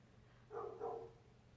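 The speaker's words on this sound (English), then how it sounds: "listen to this random dog bark for no reason" A single dog barks once or twice in a soft, muffled double woof from another room, faint against a quiet background.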